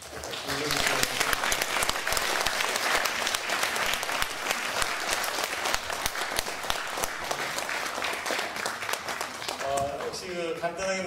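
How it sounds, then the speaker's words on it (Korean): A year-end evening gathering bursts into loud, continuous applause for an introduced guest, dense clapping that holds steady throughout before a voice starts speaking over it at the very end. "여러분 큰 박수로"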